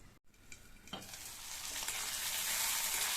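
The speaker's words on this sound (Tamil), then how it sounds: "இந்த மாதிரி ஹை ஃப்ளேமில் வச்சு வதக்கிட்டு மூடி போட்டு ஸ்டவ்வை மீடியம் ஃப்ளேமில் வச்சுருங்க." Brinjal pieces sauté in oil on a high flame; after a brief faint stir or two, a crackling sizzle swells steadily into a loud, dense hiss that fills the rest, close by and without talk.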